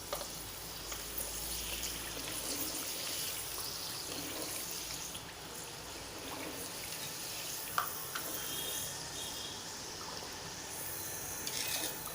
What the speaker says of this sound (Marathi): आपण हे तांदळाचे पापड तळून घेऊया